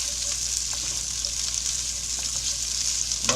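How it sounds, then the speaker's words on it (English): Onions fry in oil, a steady soft sizzle with faint crackles and a small clink at the very end, no voices. "let's go get these onions in real quick"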